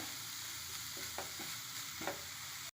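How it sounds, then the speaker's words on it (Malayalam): Pumpkin leaf thoran is cooking in a pan, with a soft, continuous sizzle and a few light scrapes of stirring over a couple of seconds, with no voices. "ഒന്ന് തുറന്ന് ഇളക്കി കൊടുക്കുക"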